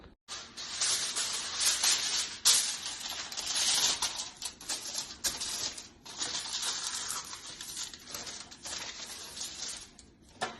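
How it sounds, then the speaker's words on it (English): Aluminum foil being pulled and pressed into a sheet pan in a home kitchen while preparing chicken wings: a close, continuous crinkling rustle with short bursts and brief pauses, no talking. "I'm gonna line it with aluminum foil"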